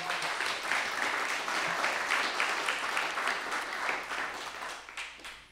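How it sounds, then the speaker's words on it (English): An audience claps at a motivational teaching event, a dense, sustained patter of many hands that holds steady and then tapers slightly near the end, with no talk over it. "Somebody clap like you're catching this today."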